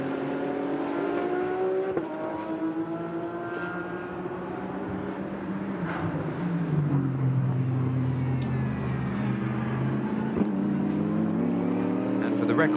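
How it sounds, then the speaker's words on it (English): Absolute Racing Audi race car at Sepang circuit during a 12-hour endurance race, engine note rising and falling with gear shifts as it passes, heard steadily under commentary. "Markus Winkelhock crosses the line."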